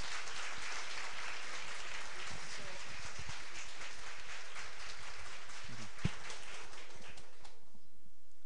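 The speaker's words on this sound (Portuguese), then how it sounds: "peço para esta família e toda essa comunidade de Santa Clara uma calorosa salva de" A congregation gives sustained applause at a Catholic funeral mass for a woman in the Santa Clara community, a dense patter of clapping that fades toward the end.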